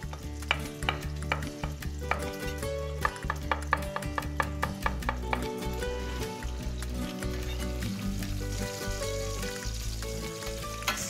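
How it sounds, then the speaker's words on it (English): Bacon rendering in a pan for a warm greens and mushroom salad, a steady close sizzle and crackle running throughout with frequent stirring scrapes and clinks, no talking. "while the bacon is rendering"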